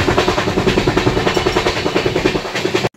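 A moving passenger train heard from an open carriage door on a trip through Kerala, with a steady rhythmic clickety-clack of wheels over rail joints under a loud rushing roar, before it cuts off abruptly.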